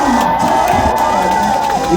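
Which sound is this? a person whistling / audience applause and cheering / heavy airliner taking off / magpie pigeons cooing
audience applause and cheering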